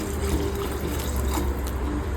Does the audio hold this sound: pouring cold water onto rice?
yes